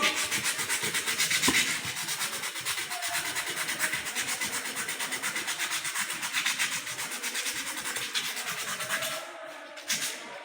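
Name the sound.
sandpaper rubbing a rusty rough steel surface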